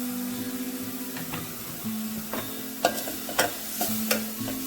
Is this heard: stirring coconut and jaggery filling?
yes